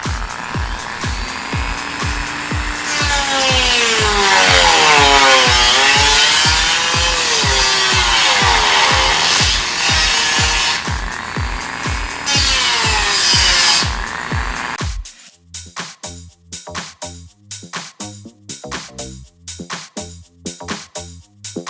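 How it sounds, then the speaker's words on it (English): A Dremel rotary tool cuts car body metal during rust repair on an MR2, producing a loud, sustained high-pitched grinding whine with a wavering pitch for about fifteen seconds, then stopping and leaving a rhythmic mechanical ticking. "I'm just going to use my Dremel."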